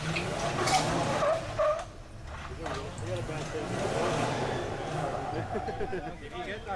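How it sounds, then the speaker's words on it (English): A 4WD climbs a rocky creek track in the Watagans as its rear tyre spins on rock and loses traction. The engine roars and surges, with gritty scrabbling over an uneven, rising and falling drone. "You can see that rear tyre spinning on the rock, just losing traction"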